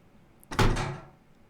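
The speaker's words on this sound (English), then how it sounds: "These old windows never stay latched." An old window in a mortuary in the horror game The Mortuary Assistant bangs once with a single close, hollow thud and a short rumbling decay; no voices.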